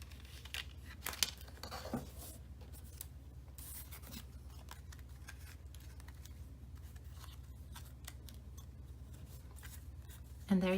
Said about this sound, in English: So everywhere there's a space, you're going to cut.